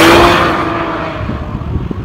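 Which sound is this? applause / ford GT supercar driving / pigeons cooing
ford GT supercar driving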